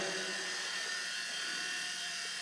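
A small Solo Pro V2 RC helicopter hovers indoors under a light, its electric motor and rotor giving a faint, steady buzzing whine with a constant pitch and no speech.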